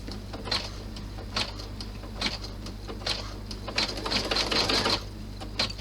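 A sewing machine stitches a large clutch bag, close up, a busy mechanical whirring and clatter in short repeated bursts over a steady low hum.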